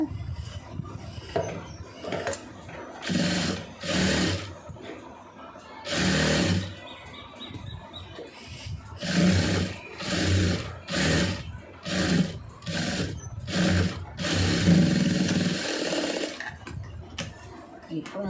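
A domestic sewing machine stitches a star-shaped neckline design in fabric, running in short, close, rapid bursts separated by brief pauses.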